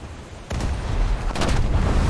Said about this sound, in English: our short range anti-air guns starts to open fire onto the enemy aircraft